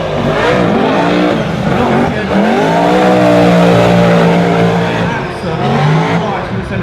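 Custom V8-swapped, roughly 700hp naturally aspirated Toyota AE86 drift car on 18-inch wheels, driven hard on a circuit, its engine roaring loud and close with revs swelling and dropping continuously, tyres squealing underneath.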